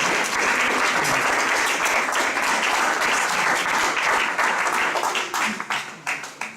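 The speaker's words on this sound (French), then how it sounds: "On applaudit le Jésus qui est en toi." An audience at a young Franciscans' retreat breaks into dense, sustained applause that fades into scattered claps near the end.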